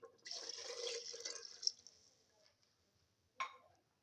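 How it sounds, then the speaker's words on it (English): About 250 ml of water poured over rice in a pressure cooker, a soft gurgling splash for over a second, a trickle tapering off, then a brief drip or clink, quiet and close. "Add around 250 ml of water."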